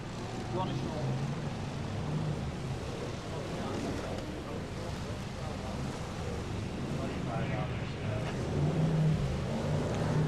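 BriSCA Formula 1 stock cars racing at Stoke in 1994, a continuous roar of several engines at a distance with a commentator talking over the noise throughout.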